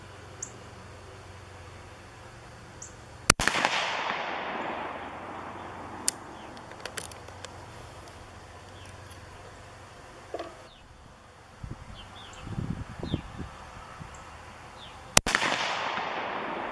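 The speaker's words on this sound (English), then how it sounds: "So I'm going to shoot for you, not the Mauser 88, but the 223" Two sharp, loud rifle shots from a .223 fired outdoors, about twelve seconds apart, each with a ringing decay, over a quiet background with faint handling noise between them.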